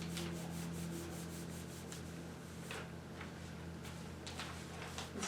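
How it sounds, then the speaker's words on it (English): Hands rub leaves against paper during leaf printing, a soft, continuous scratchy rubbing with faint intermittent strokes and no talk. "you just massage each leaf"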